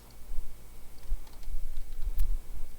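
Keys clack on a computer keyboard in an uneven run of close, crisp taps with short pauses, typing out a line of code.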